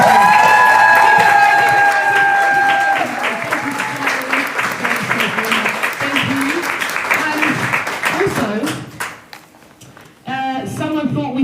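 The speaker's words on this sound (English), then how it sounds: "So give a round of applause, please." Loud audience applause and cheering at a live salon hair event, dense clapping with whoops, dipping briefly before a burst of excited voices returns.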